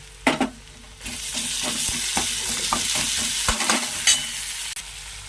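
Onion, chili and chopped tomato fry in a pan with a continuous crackling sizzle, and a spoon scrapes and knocks against the metal in uneven strokes. Nobody speaks.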